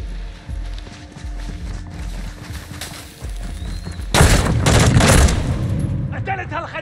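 Gunfire erupts in the video game Call of Duty Modern Warfare 2, with scattered shots and battle noise followed by a loud, dense burst of sustained firing near the end, under faint voices.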